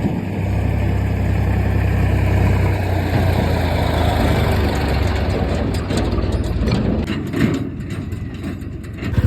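Tractor engines idling outdoors where many tractors gather, a loud, steady low diesel rumble with mechanical clatter and some background noise, continuous throughout.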